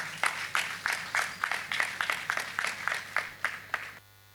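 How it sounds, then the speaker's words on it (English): Sustained rhythmic clapping from a conference audience welcoming a keynote speaker at Edves Catalyst 2019, steady and fairly loud for about four seconds before cutting off abruptly. "Please keep clapping until he gets up."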